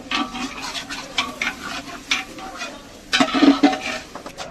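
A spoon stirs a mixture of chili, turmeric, salt and water in a pan with repeated scraping strokes in uneven bursts, and a louder flurry of stirring comes near the end.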